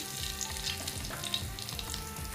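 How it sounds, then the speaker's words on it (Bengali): Whole cumin seeds fry in hot cooking oil in a pan, giving a steady close sizzle with light crackles and faint stirring, no voices. "তার মধ্যে দিয়ে দেব আধা চামচ পরিমাণ আস্ত জিরা। জিরাটা হালকা ভেজে এলে"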